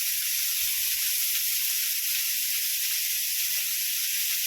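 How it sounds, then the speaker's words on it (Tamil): Egg powder with a little salt frying in a pan, giving a steady, close sizzle and hiss that holds even throughout with no talk. "முட்டைப்பொடி இதை ஃப்ரை பண்ணிவிட்டு"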